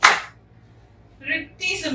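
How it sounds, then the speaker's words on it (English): Hands clap sharply during a simple counted dance routine: one crisp clap at the start, then two more slaps near the end after a quiet gap, close and bright, with no voice over them. "raising the hand, clapping, raising the hand, clapping"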